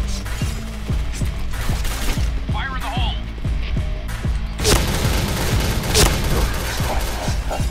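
Rapid automatic gunfire sprays in a Point Blank online shooter match, a steady stream of close, punchy shots over several seconds with a louder burst near the end, mixed under a player talking.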